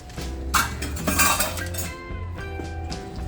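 Peanut butter cookie dough being mixed in a bowl, with a utensil clinking and scraping against the sides in a steady, close, moderately loud rhythm, no voices.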